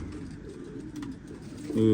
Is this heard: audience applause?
no